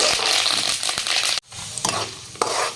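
Dry red chillies and curry leaves sizzle in hot oil while being stirred in a pan, a steady close frying hiss broken by scraping strokes and a brief pause midway.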